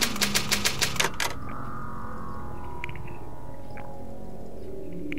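Typewriter keys pressed in the video game Demento, a quick run of about eight sharp clacks in the first second, then a low droning room tone with a few faint knocks.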